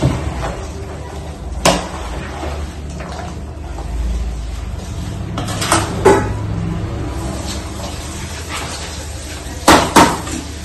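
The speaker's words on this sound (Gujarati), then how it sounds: "તો હવે આપણે મસાલાને બધો મિક્સ કરી દઈશું." A metal spoon stirs masala spices in a kitchen pot while a birthday party tiffin is being cooked. Scattered sharp clinks and knocks of utensil on metal rise over a low, steady background hum.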